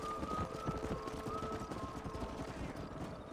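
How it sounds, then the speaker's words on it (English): Horses gallop in a steady, fast clip-clop through the whole stretch of the Western game Red Dead Redemption. The hoofbeats are mid-distance and moderately quiet, under a constant wash of ambient noise. "The riding nose, the galloping. Quite annoying noise."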